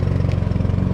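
A neighbor's lawn mower runs steadily nearby in a Key West yard, its droning engine a loud, continuous low hum with a slight pulsing rhythm and no pauses.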